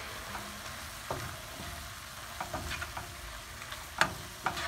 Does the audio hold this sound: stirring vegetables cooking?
yes